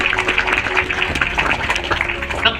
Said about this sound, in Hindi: आप जोर से ताली बजा सकते हैं परमेश्वर की महिमा के लिए।